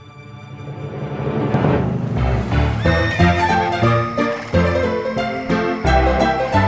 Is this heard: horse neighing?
yes